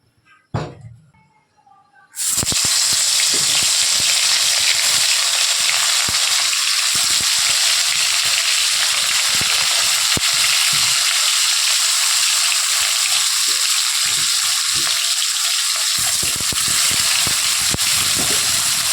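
Fish fries in mustard oil in a loud, dense, continuous sizzle that bursts in after a short quiet start and holds steady, close up, with faint crackles throughout.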